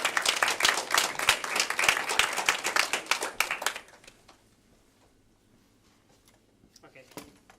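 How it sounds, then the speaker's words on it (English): An audience gives Raul a warm round of applause, dense clapping filling the room for about four seconds before it fades and stops. "warm round of applause for Raul."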